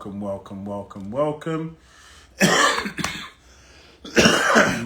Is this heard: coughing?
yes